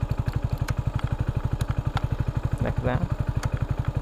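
A Hero HF Deluxe BS6 motorcycle sits idling nearby, its single-cylinder engine putting out a rapid, even thump. Someone talks briefly over the steady running engine.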